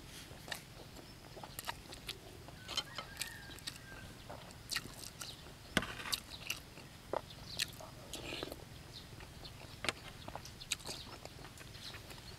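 Someone eating spicy minced fish laab with fresh garden vegetables, close, soft bites and chewing crunches in an irregular rhythm over quiet background, with faint scattered clicks.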